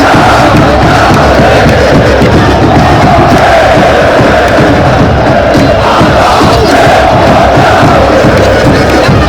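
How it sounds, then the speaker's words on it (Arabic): Zamalek football fans in a packed stadium before a match, a loud, dense roar of massed chanting voices, continuous and close, swelling slightly without pause. "الجمهور نادى على اللعيبة كلهم عشان يشجعهم"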